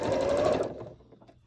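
A sewing machine stitching a quilt block for a sampler quilt, a brief fast close run of stitching that stops partway, then quiet handling noises.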